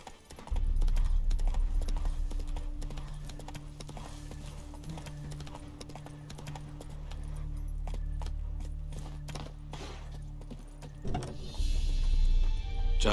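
In The Witcher 3 video game, Roach the horse gallops with a steady rhythmic clip-clop of hooves and a jangle of tack, mid-level over a low rumbling ambience, and a brief louder clatter comes near the end.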